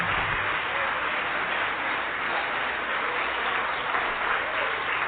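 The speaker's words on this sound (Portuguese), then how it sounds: "E vamos aplaudir o Senhor Jesus por cada vida que está chegando." A church congregation applauds, a continuous, even roar of many hands clapping together that fills the room, steady and loud throughout with no clear speech on top.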